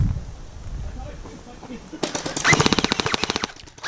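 SKD M4SS gel ball blaster firing rapid three-round bursts during a game, loud sharp cracks in quick clusters following a quieter stretch of wind and low rumble.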